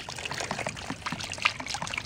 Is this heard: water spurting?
yes